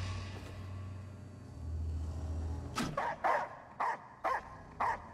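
Dog barking in the horror video game Layers of Fear 2, five or six sharp barks in a quick series that start after a low droning hum, fairly close and clear with no talk over them.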